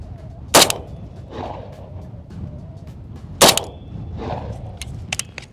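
Two sharp shots from a 5.45 rifle, about three seconds apart, each followed by a softer impact or echo off body armor, with a few faint clicks and ticks at the end.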